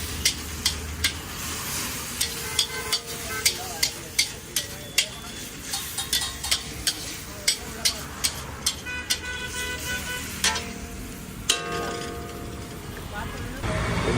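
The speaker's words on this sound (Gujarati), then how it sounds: "જોઈ શકો છો ચટણી પણ આપણે શેકાઈ જાય છે." Special chutney roasting in a pan for a street-style mag (moong) pulao, with repeated rhythmic scrapes and clanks of a ladle stirring over a steady sizzle, busy street noise and occasional horns behind.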